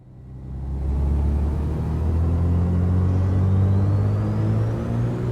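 Twin engines of a Beechcraft Duke in Microsoft Flight Simulator run up to full power for the takeoff roll, a loud deep droning rumble that rises quickly and then holds steady, with no voices.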